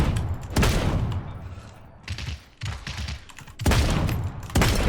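Rapid bursts of sniper and rifle gunfire in the Realm Royale battle royale game, loud cracks and booms repeating in clusters over a busy, noisy mix.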